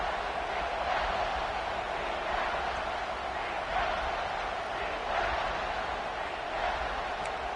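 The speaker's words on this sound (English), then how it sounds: "This crowd is trying to inspire this defense to make a big red zone stop" A large college football stadium crowd roars for a defensive red zone stop in a steady, continuous wall of noise, swelling slightly at moments, with no single voice standing out.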